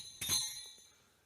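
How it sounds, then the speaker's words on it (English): Small handheld bells ring once, a bright metallic jingle with a sharp onset that rings out and fades over about a second, close and fairly soft. "You just got me these bells. Now, I love playing with them."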